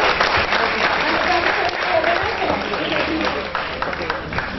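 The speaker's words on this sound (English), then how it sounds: "Let's give a big round of applause for her." An audience at a dance contest breaks into dense, sustained applause and cheering, loud and close throughout, easing slightly toward the end, with voices mixed into the crowd noise.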